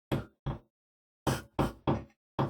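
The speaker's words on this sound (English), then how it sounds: "Who's knocking at the door?" Knuckles rap on an office door: two knocks, a pause, then four more in quick succession, close, loud and sharp, with no voices.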